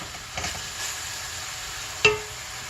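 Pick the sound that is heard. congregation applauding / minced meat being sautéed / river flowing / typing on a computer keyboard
minced meat being sautéed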